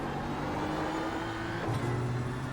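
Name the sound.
BMW M4 GT3 engine accelerating in iRacing video game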